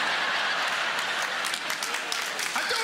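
A comedy audience applauds during a stand-up set, dense steady clapping from a large crowd throughout, with talk faintly audible beneath it.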